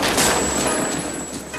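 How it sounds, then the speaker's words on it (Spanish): A rapid burst of gunfire from a movie scene fills the moment as a man is shot five times: sharp, loud cracks run together into a dense volley, and no one speaks. "Le da 5 tiros"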